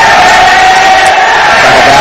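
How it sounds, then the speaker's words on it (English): Basketball crowd and team bench chanting in a college gym, a loud, dense wall of massed voices with a sustained tone, close and continuous. "Lions bench is chanting defense."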